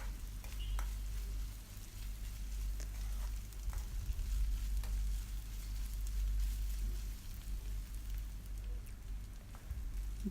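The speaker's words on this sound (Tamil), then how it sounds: "இஞ்சி பூண்டு பச்சை வாசம் போகிற அளவுக்கு நல்லா வதக்கிக்கோங்க" Ginger garlic paste sautés in a pan for a channa masala, giving off a steady, soft sizzle and crackle with a few faint clinks from stirring.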